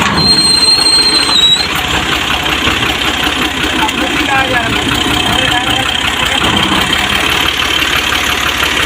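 A New Holland Al Ghazi diesel tractor engine runs steadily throughout, with a constant mid-pitched drone and a brief high whine early on, with a voice talking over it.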